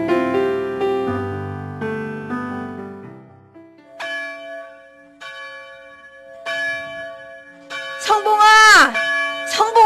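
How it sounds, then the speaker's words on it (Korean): A church bell rings in a dramatized scene, several resonant strikes with long decaying tones spaced across the span, followed by a brief swooping effect near the end. "지금 예배당 종소리 들리지 않네?"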